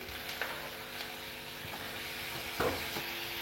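Chopped onion frying in oil with cumin and green chilli for poha, a soft steady sizzle with a few scrapes of a stirring spoon, close but fairly quiet.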